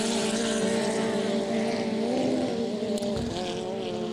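An inboard racing boat engine roars steadily at high revs on a lake during a race, a loud continuous drone with rising and falling pitch and no talk over it.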